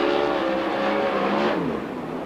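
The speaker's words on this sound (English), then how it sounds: "Here comes the 19 car, fastest car in hot lap Slayer practice last night" A 410 sprint car, the 19 car, roars around an oval track during qualifying, its engine loud and steady, then pitching down as it passes by. No one talks over it.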